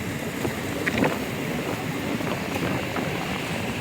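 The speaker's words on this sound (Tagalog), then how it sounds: "Malakas ng hangin." Strong wind buffeting the microphone outdoors on a cold morning, a continuous loud rumbling roar with gusty swells throughout.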